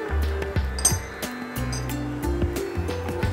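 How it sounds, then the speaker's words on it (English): Spices are stirred into sundal in a pan with a quick, close sequence of clinking metal scrapes and taps, moderately loud, with no voices. "A quick stir."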